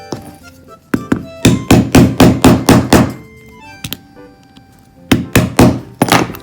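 Sharp metal hammer thunks from a screw punch tool struck to close a hole in sewing work: a rapid run of about eight close, loud blows, a lone knock, then a few more strikes.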